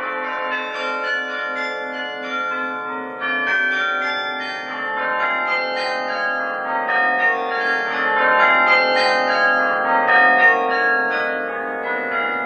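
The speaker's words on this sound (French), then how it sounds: "Depuis 500 ans, les carillons sonnent, perchés au sommet des beffrois qui dominent les villes du Nord." Carillon bells ring from a belfry tower in Douai, northern France, a dense cascade of overlapping bell tones in a steady melodic peal, sustained and resonant with no voices.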